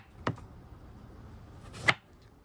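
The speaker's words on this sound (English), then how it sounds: "So the way I like to cut it is I like to cut it in slices" A knife slices through a fresh opo squash on a cutting board, giving two short, crisp cuts about a second and a half apart, close and fairly quiet with no one talking.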